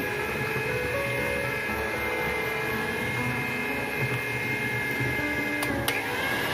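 An electric mixer running at its highest speed, whipping egg batter for a baked chocolate sponge cake: a steady, loud motor whine with a constant pitch, close by and unbroken throughout.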